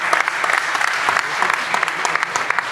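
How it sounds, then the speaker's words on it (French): Sustained audience applause at an agricultural awards ceremony in the Hérault, dense steady clapping from a large crowd filling the whole stretch, fairly close and loud. "On peut l'applaudir"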